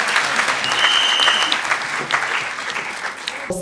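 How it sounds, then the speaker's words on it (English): An audience applauds at the opening ceremony of the APWEN women engineers' conference in Nigeria, loud sustained clapping from a large crowd that stays full before tapering slightly near the end. "Can we applaud that?"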